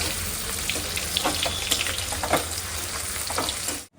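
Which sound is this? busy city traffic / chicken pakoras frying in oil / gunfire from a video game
chicken pakoras frying in oil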